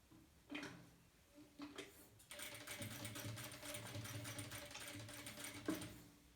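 A sewing machine stitches a two-layer cotton fabric mask, reverse-stitching to secure the cord at a corner: a few short bursts, then a steady, close mechanical whirr with rapid needle ticking that runs for several seconds before stopping.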